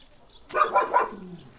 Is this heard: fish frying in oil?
no